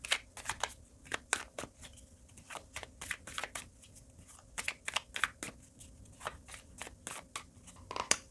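Tarot cards are shuffled and drawn in a quiet room, a steady run of soft riffling snaps and flicks with irregular rhythm, close and fairly faint, with no talking.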